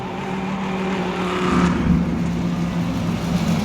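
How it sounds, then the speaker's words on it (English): A Lamborghini race car in Le Mans Ultimate brakes hard into the pits at the 24 Hours of Le Mans, its engine droning loud and close with a steady low hum and faint tire scrub. "So we follow the Lamborghini into the pits. Very hard braking."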